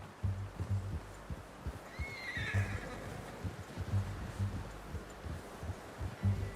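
A horse in Red Dead Redemption 2 gives one loud whinny partway through, with hoofbeats clip-clopping steadily underneath throughout.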